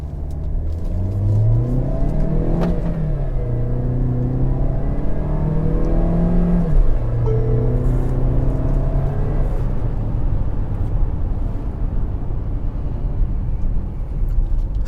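Tata Harrier 1.5 litre TGDI turbo petrol engine at full throttle in sports mode, loud and close, revs climbing through several gear changes with rising and falling pitch, no talking over it.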